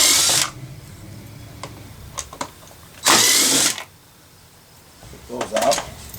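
A screwdriver removes two Phillips screws from the door panel of a 2016 Scion iM hatchback. Two short, loud whirring bursts are separated by quieter clicks and handling noise, with a smaller rattle near the end.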